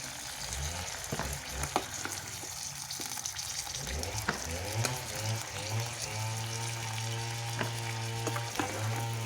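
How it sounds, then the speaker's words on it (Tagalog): Garlic and onion sauté in a pan on an electric stove, a steady spattering sizzle with stirring scrapes and intermittent tonal hums and knocks throughout. "Igigisa. Pero may bawang sibuyas yan."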